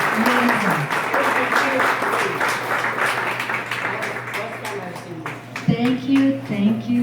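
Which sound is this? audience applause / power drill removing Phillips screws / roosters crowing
audience applause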